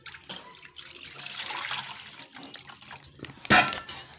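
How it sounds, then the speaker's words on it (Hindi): Water from a tap poured into a bowl in a home kitchen, with a steady running trickle and a brief louder splash near the end, close and fairly quiet. "इसमें पानी ऐड करती हूँ"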